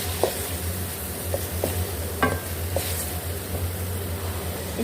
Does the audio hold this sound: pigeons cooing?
no